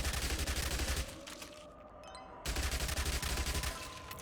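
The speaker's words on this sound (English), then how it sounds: "we're just going to shoot zombies with it." SMG in Yet Another Zombie Survivor shooting at zombies, with two stretches of rapid, even automatic fire and a short lull between them.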